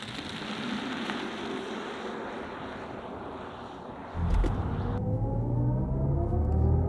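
A 2024 BMW 5 Series (G60) accelerates hard from a standstill: steady wind and road noise gives way to a sudden loud, close surge of low engine-and-tyre roar whose tone climbs as speed builds.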